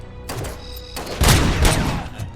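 Gunfire in a Robocop scene: a quick fusillade of heavy shots and thuds, loud and close, with bursts clustering in the second half.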